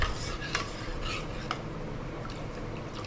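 A spoon stirs a pineapple turmeric detox drink, giving soft clinks and a swishing liquid wash, close and steady over a noisy background.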